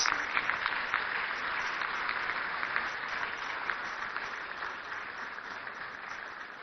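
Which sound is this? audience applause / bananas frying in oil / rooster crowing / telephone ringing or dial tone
audience applause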